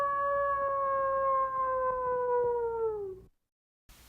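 A white wolf gives one long, loud howl that starts steady and slowly sinks in pitch before cutting off into silence, used as a Halloween story sound effect.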